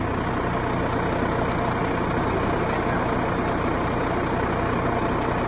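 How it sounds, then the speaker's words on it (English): A truck engine idles loudly and steadily close by with a dense, rumbling drone while hay bales are loaded on a farm; no other sounds break through. "sorry about the noise of this truck"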